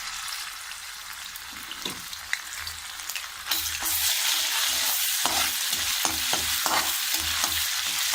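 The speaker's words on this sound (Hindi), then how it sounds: "अब हमारा तेल गर्म हो गया है। अब हम इसमें ऐड करेंगे लहसुन अदरक का पेस्ट।" Garlic ginger paste hits hot oil in a pan and sets off a steady, close sizzle that jumps louder partway through, with faint stirring scrapes crackling over the frying hiss.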